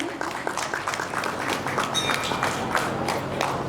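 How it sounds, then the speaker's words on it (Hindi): A seated audience at a religious study camp gives sustained, moderately loud applause to welcome a guest, steady rippling claps with some voices underneath. "तो हम सभी जोरदार तालियों से एक बार उनका स्वागत करते हैं।"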